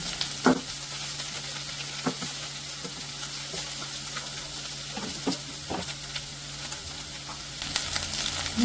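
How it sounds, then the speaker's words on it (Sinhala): Steady, bright sizzling of vegetables stir-frying in oil in a pan, with occasional scraping stirs and clinks over the continuous hiss. "මේ විදිහට එළවලු ටික තෙම්පරා වෙද්දී"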